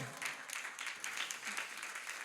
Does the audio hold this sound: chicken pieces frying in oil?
no